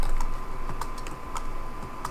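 Quick, steady keystrokes on a computer keyboard as code is typed into a GUI project on macOS, close and clear, with a few sharper key clicks standing out and no talk.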